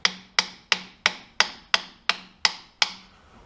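A non-steel hammer strikes a Kubota tractor shaft nine times in a steady, even rhythm, each blow a sharp, ringing knock that decays quickly, close and loud with no talk.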